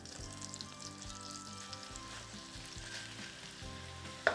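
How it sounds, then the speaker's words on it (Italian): Butter sizzles in a pan over high heat as minced meat goes in for cannelloni filling, a soft, steady crackle under background music. "Il burro sfrigola, è il momento di buttare giù la carne."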